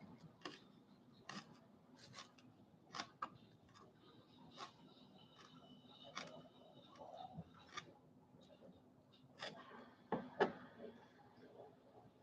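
Knife cutting cilantro on a board in a home kitchen, a series of quiet, sharp taps spaced irregularly over a soft background hum, with no talking.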